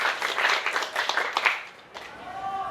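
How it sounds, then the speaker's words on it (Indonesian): A group of students claps together during a physical education class, with brisk, slightly uneven clapping for about two seconds before it fades into a voice and room noise. "Tepuk tangan untuk semua."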